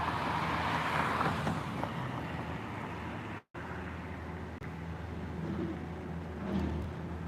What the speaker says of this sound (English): What's these sounds over here? Is it a garbage truck or something?